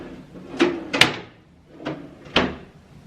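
Hotel room drawers are pulled open and pushed shut in a quick series of wooden knocks and sliding scrapes, four distinct bumps at close range with no talking.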